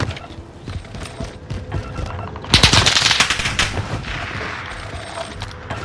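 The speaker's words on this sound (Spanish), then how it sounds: "Están disparando también." Bursts of machine-gun fire and scattered rifle shots crackle in a Call of Duty: Modern Warfare battle, swelling into a dense, loud volley midway before thinning into sporadic pops.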